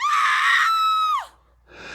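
A woman lets out a single loud, sustained high-pitched scream for just over a second, then it bends downward and cuts off. A short pause follows, and then a fainter breathy vocal sound comes in at the end.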